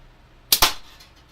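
A slingshot fired once at close range: a sharp rubber-band snap and a thud in quick succession, followed by a short fading rattle, with no talking.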